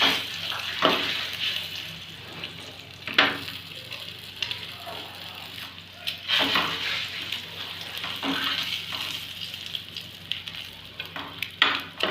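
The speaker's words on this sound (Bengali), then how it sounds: "এই যে ডিম ভাজা প্লেটে করে ডিমগুলো ভাজতে দিয়েছি" Eggs fry in a pan on a low flame, giving a steady soft sizzle broken by louder spatters and the scrape of stirring, close by.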